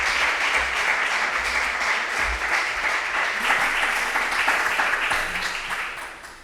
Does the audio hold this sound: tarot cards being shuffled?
no